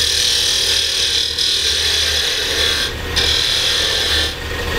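Maple burl box being turned on a lathe, a steady loud scraping hiss of a cutting tool on spinning wood, with brief lifts of the tool around the middle and near the end.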